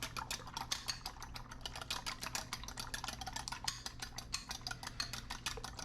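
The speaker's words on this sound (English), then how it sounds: "you want to actually mix this up. Don't just drop the eggs in there" Eggs being whisked into a corn boilie mix for carp bait, rapid rhythmic clicking and sloshing of a utensil against a bowl, close and continuous but fairly quiet.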